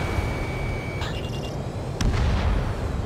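An AA gun is destroyed by an explosion in Ace Combat 7, a loud boom rumbling over steady jet engine noise, with a tone ringing before it and crackling debris after.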